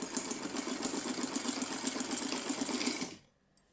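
An electric sewing machine runs in a fast, steady rhythmic whir while stitching lace onto a small Laddu Gopal dress, then stops abruptly near the end, followed by a faint click.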